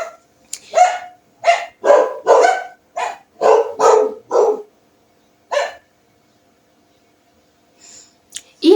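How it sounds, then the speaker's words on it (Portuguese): Pet dog barking indoors in a burst of about nine sharp, loud barks in quick rhythm, then a pause and a couple more faint yips near the end. "Vocês estão ouvindo meu cachorro latindo?"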